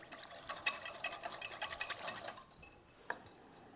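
Vinegar and oil dressing, two parts oil to one part vinegar with white pepper and salt, being whisked briskly in a bowl: rapid scraping strokes for about two and a half seconds, then a single faint clink.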